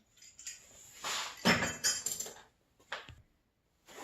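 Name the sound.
drinks clinking for a cheers toast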